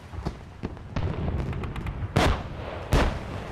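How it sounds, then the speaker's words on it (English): Shrapnel shells burst in a wartime animation: two loud, sharp bursts stand out over a rumbling, crackling bed of distant gunfire, with a scatter of lighter pops between them. "You could really appreciate the beauty of bursting shrapnel."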